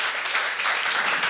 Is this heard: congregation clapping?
yes